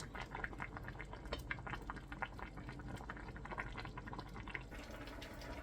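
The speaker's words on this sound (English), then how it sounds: "While our soup is busy bubbling away" Soft, continuous bubbling with scattered small pops and gurgles, quiet and close, like broccoli and Stilton soup simmering steadily in a pot.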